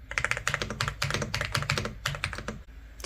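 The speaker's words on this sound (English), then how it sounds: "This is what you call a mechanical keyboard." Rapid, steady typing on a Dareu A104 Pro mechanical keyboard, with dense clacking keystrokes close up and loud, no voices.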